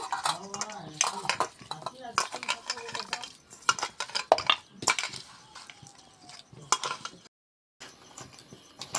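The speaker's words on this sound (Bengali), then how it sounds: "এটাকে হাতে ভালোভাবে মিক্স করে নেব" Mashed potato being worked by hand with salt for aloo chop, giving soft squelching, pressing and scraping sounds in irregular bursts, close and moderately loud, with a short silent gap near the end.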